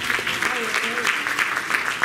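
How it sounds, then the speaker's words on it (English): A church congregation claps hands in praise, a quick run of rhythmic claps beneath ongoing voices, fairly close and lively. "Here's all the hand clap of praise."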